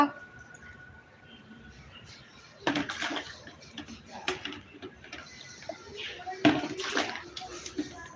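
Water is poured onto garden plants in a couple of splashing bursts, with quieter trickles and handling noises in between, while people talk nearby.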